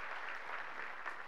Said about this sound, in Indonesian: beri tepuk tangan buat Tuhan kita Yesus Kristus